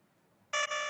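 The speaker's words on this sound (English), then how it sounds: "okay, the buzzer went." A buzzer sounds suddenly after quiet, a loud harsh electronic tone with a brief dip before it continues steadily to the end.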